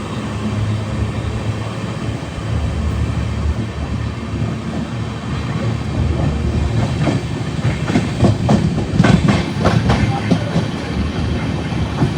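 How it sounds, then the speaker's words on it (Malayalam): The Kannur–Bengaluru Express rolls across the Netravati bridge, a steady heavy rumble with rhythmic clickety-clack from the wheels growing more pronounced toward the end, heard loud from on board. "നമ്മുടെ കണ്ണൂർ ബാംഗ്ലൂർ എക്സ്പ്രസ് അങ്ങനെ നേത്രാവതി പാലത്തിൽ കയറി മംഗളൂരു സെൻട്രൽ ലക്ഷ്യമാക്കി പോവാണ് കേട്ടോ."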